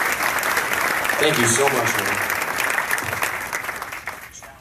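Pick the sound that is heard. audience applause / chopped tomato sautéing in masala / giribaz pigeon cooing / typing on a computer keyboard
audience applause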